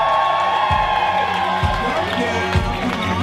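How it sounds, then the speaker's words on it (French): A drag show audience cheers and applauds over loud talking, with a few heavy rhythmic thumps recurring through the noise. "On lui fait, s'il vous plaît, une ovation, un tonnerre d'applaudissements"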